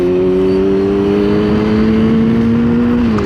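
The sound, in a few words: BMW Z4 car driving past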